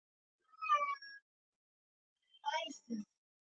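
Two short, high cat meows from an animated series cartoon, each clear and fairly close, separated by about a second of silence; the second meow trails into a lower, drawn-out tail.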